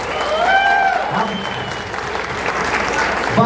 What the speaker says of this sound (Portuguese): Palmas aqui pro turma do bar,